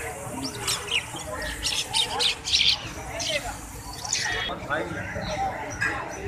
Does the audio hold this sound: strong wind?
no